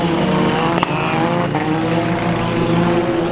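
A race car running down on a cylinder roars loudly past at a Bakersfield Speedway heat race, its rough engine note broken by a sharp backfire pop and a fainter crack a moment later.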